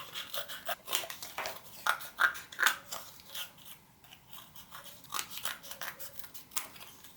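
Scissors snip repeatedly through a cardboard sheet while making a snowman craft, giving a close, crisp series of irregular crunching cuts with brief pauses in between and no talking over them.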